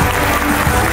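Dense, loud applause fills an opening ceremony of a regional innovation forum in Korea, a steady wash of clapping from a large audience that stays at full strength throughout.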